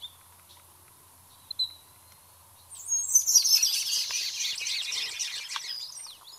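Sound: Abert's Towhee communication call

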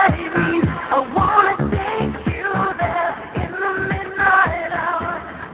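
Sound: A song played forwards

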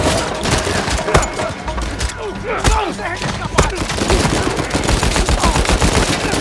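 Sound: gunfire in video game Uncharted 4

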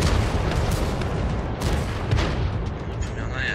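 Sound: tank cannon fire exchange in World of Tanks video game

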